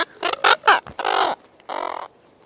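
Hoarse, harsh calls from a large female booby, a seabird, captured during a marine bird study: several rough croaking bursts close by, then a longer grating call and a final shorter one, with no talk.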